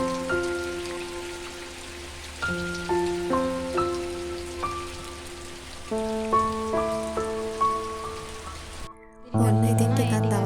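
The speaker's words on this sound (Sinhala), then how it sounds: "උදේ ඉඳන්ම වහිනවා" Steady rain falls on a surface as a continuous soft hiss beneath gentle melodic music, with no talking.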